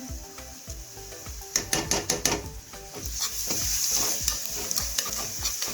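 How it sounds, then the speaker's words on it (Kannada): Garlic and ginger paste sizzles with onions in a pan as a steady close frying hiss, broken by repeated clattering stirs of a utensil against the pan, with no voices. "ನಾನೀಗ ಬೆಳ್ಳುಳ್ಳಿ ಪೇಸ್ಟ್ ಮತ್ತು ಅಲ್ಲ ಪೇಸ್ಟ್ ಹಾಕ್ತಾ ಇದ್ದೀನಿ ರೀ"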